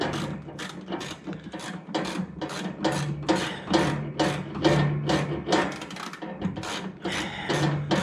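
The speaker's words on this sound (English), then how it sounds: "I'm just tightening my nuts." Close, rhythmic ratcheting from a 7/16 socket tightening nuts on a Jaguar MKII, with repeated clicking strokes in an even back-and-forth pattern and brief pauses between pulls.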